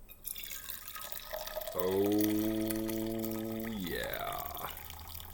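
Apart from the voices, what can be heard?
liquid being poured into a cup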